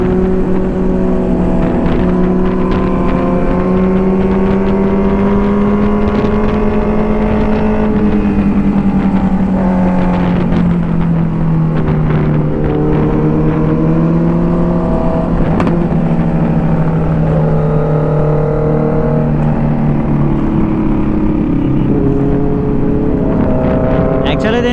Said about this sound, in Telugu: అందుకని ఆ క్రాకల్ సౌండ్ మాత్రం హైలైట్ వస్తుంది